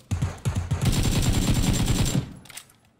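Tommy guns fire in a video game, a loud, close burst of rapid automatic gunfire lasting about two seconds, preceded by a few single shots and fading into a brief tail.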